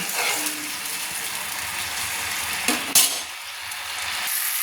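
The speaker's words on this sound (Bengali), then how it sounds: "দিয়ে আমি ভালো করে আবার নেড়ে নিচ্ছি" Masala paste thinned with water is stirred around a pan for a Bengali lau chingri curry, giving steady scraping and clicking of the spoon over a soft sizzle, with a louder knock near the end; no one speaks.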